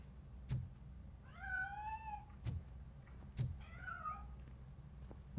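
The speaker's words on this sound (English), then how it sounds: "That cat must be hiding inside." A cat in RoboCop: Rogue City gives two drawn-out, plaintive meows, hiding inside a piano, between soft thumps, fairly quiet against low background hum.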